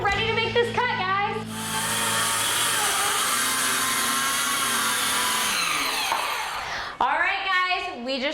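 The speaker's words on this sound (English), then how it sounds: "This will serve as a guide for our circular saw." A circular saw rips a sheet of plywood along a guide board, with a loud, steady whine held for several seconds at close range that winds down sharply, and voices talking just before and after.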